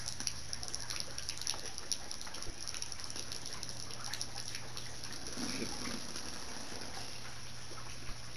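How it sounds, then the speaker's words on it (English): Rain falls steadily outside, a constant soft wash of patter with scattered drop taps, fairly faint and unbroken, with no talk over it. "Can you hear the rain?"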